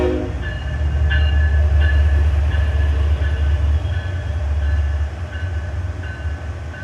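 An Amtrak passenger train rolling along triple-tracked main line near Elkhart, Indiana, a loud continuous low rumble with rhythmic wheel clicks and faint squeals, heard close from on board.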